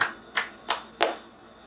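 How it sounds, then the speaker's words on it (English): A handful of sharp hand claps at a high school recognition day ceremony, four separate claps spaced about a third of a second apart, close and isolated with no crowd joining in. "it is fitting to give them a round of applause"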